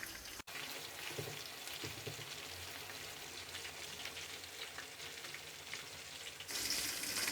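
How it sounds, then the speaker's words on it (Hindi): Chicken pieces deep-frying in hot oil for an extra crispy fry, a steady dense sizzle with fine crackling that runs on unbroken and swells slightly louder near the end. "अब दूसरी तरफ से भी हम 3 से 4 मिनट अच्छे तरीके से फ्राई कर लेंगे"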